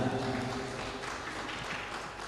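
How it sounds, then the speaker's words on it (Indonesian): A festival audience at a Ramadan sholawat performance gives a steady round of clapping for a few seconds, a dense even wash of applause without speech. "tepuk tangan yang meriah"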